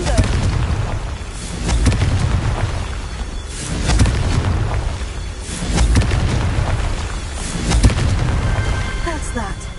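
Confringo fire spell explosions in Hogwarts Legacy, heavy booming blasts in dense rolling waves over a loud, continuous game soundscape.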